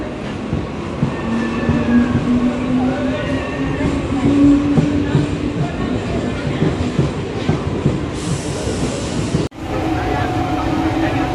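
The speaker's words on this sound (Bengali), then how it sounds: "ট্রেন চলে এসছে" The Gede local commuter train rolls into the station with a loud, steady rumble, wheels screeching and clattering on the rails, and voices on the platform underneath.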